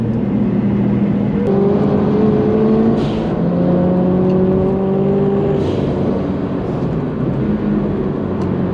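A Subaru car's engine revs hard on a track, a loud close drone with rising and falling pitch sweeps as it accelerates and shifts, sustained throughout without talk.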